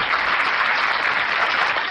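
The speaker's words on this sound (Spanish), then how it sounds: "Lo recibimos con un aplauso, por favor." Applause in a university auditorium welcoming a speaker at an international pro-life congress, a steady, even roar of clapping from the audience, bright and continuous throughout.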